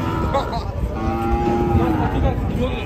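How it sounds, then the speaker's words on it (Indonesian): A black cow lows in a long, loud, close moo that holds steady for nearly three seconds over a rough outdoor background, with no voices. "Sapi gajah hitam."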